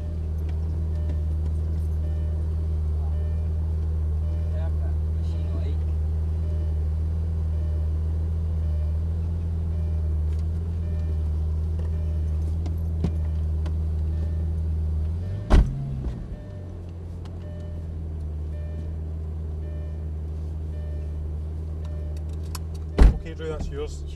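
A Lamborghini engine hums steadily at low speed, close and constant, then shifts and settles after a clunk partway through, with another sharp knock near the end.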